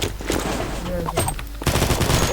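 Rapid automatic gunfire rattles in the first-person shooter game Combat Master, dense bursts of shots crackling loudly throughout with a faint voice underneath.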